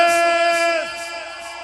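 A crowd of men at an annual fair dance in Santiago Mexquititlán shouts together on cue, a loud sustained group yell that holds steady and then fades a little.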